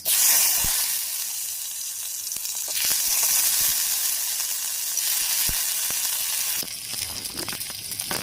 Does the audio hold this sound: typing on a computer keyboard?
no